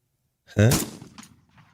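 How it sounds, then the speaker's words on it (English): A single gunshot sound effect fires as one sharp, loud blast that decays quickly, played alone. "Let's see what a gunshot sounds like."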